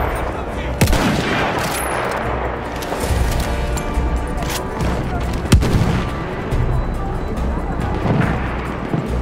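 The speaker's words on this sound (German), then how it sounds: "Maschinengewehr, eindeutig feindlich." Machine gun fire in a war video game, rapid bursts and scattered loud shots over a busy battle din, with occasional heavier impacts and a voice talking over the shooting.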